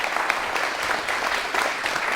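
Steady, dense clapping from an audience at a classical music masterclass, a continuous wash of applause with no voices over it.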